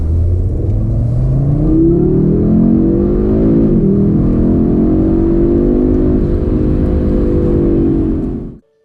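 A 2025 Audi RS3 pulls hard through a 30 to 70 run, its engine note climbing loud and close with a brief dip at a gear change before rising again, then cutting off sharply at the end.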